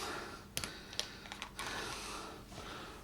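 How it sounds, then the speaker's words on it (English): Wax seal on a small 3 cl bottle of Dràm Mòr Speyside 6 year old whisky being cracked open: a few sharp, dry snapping clicks spaced irregularly over quiet room tone, close and fairly soft. "Let's crack it open, break the wax seal."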